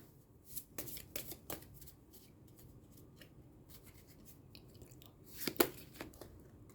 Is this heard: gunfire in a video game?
no